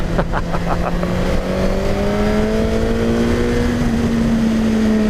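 A Suzuki GSX-R1000R sport motorcycle engine revs high and steadily above 8,000 rpm, its pitch climbing slowly, loud and close, with no voices.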